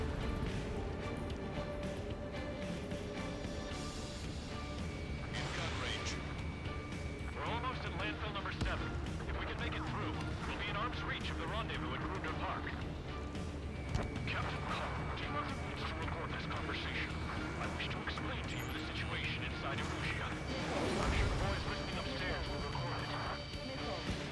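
A missile hit explodes during an aerial dogfight in the Ace Combat 7 video game, a booming blast set in dense, continuous combat noise while radio voices talk over it.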